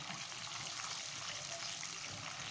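Chicken curry masala for aloo chicken salan frying in oil after water is added, a steady soft sizzle and bubbling hiss heard close and continuous, without talk.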